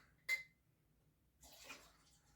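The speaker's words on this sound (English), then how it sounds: "I'm gonna pour just a smidgen of this in there." A 100 proof spirit is poured into a 5-liter barrel: a brief splash, then a second short, soft stream of liquid trickling in, quiet and close, with no talking.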